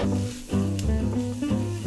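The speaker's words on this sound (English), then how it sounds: "I got another frying pan going, browning the lardon in this pan over here" Lardons sizzle as they brown lightly in a frying pan, a steady close crackle of fat with occasional soft scrapes or stirs, no one talking.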